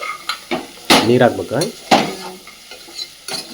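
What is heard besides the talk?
stirring vegetables and lentils together in a cooking pot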